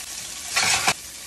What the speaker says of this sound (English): I'm adding the tofu in first because I want it to get nice and crispy